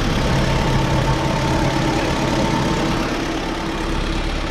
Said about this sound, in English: I just wanted to let you guys know the next video is going to involve fixing our ticking noise on the engine